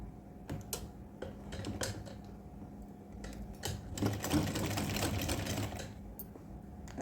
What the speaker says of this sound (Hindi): यहाँ पे रख के एक सिलाई लगा देंगे और हम सिलाई लगाएंगे थोड़ी खींच के